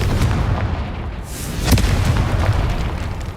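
A Confringo fire spell explodes in the video game Hogwarts Legacy, a loud booming blast with a sharp burst at its peak and rumbling low energy that carries through the whole short clip.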